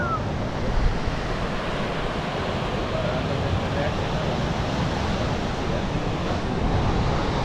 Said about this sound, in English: Not too many waves at this spot either